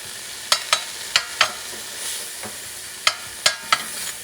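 Garlic cloves frying in a pan give a soft, steady sizzle, broken by sharp clacks and scrapes from a utensil stirring at irregular intervals, close by and with no talking.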